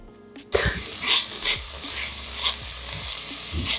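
Onions sauteing for a golden tomato sauce, sizzling steadily in a pan with repeated scraping stirs of a spoon, close and clear with no talk.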